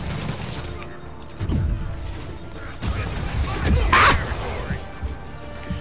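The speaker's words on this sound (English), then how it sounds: "There are so many weapons going on at once. So many missiles." Missiles and many weapons fire at once in Spider-Man: Turf Wars, a game fight against Hammerhead, with rumbling blasts, crashes and booms running steadily throughout and a louder impact near the end.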